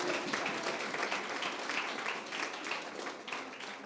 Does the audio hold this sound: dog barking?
no